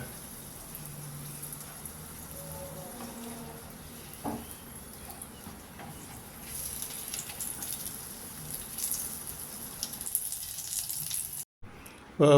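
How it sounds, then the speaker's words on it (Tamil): Prawn manchurian somas are being deep fried in oil. A steady, soft bubbling sizzle runs throughout with a few brief clicks and knocks, and a faint voice is heard near the end. "அப்படியே ஒன்று ஒன்றுத்தையும் ஃப்ரை பண்ணி அப்படியே பிளேட்டில் எடுத்து வச்சுக்கலாங்க."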